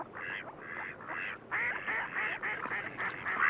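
Wild mallard ducks quack at a marsh pond in a quick series of about eight nasal calls, clear and fairly close, with a few overlapping at the end and no talk.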